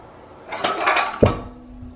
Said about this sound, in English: Hey, you can wash these dishes?